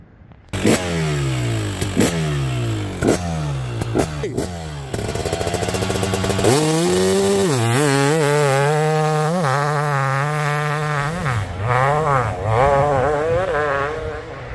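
A 2024 GasGas MC250 two-stroke dirt bike engine, indoors at a motorcycle museum, starts with a few sharp kicks and pops, then revs up and holds a loud, buzzy, wavering idle with repeated throttle blips.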